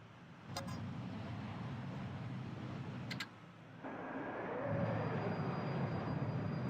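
An aircraft in an air traffic controller game passes with a steady, low engine drone that swells slightly toward the end, broken by a couple of faint clicks.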